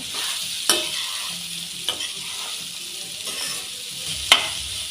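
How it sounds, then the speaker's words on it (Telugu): Carrots frying in a pan over the flame, a steady broadband sizzle with a few sharp scraping stirs of a spatula standing out, close and alone with no talking. "ఇప్పుడు క్యారెట్ వేసుకోవాలండి ఫ్లేమ్ ఫ్లేమ్లో పెట్టి ఉడికించుకోవాలండి"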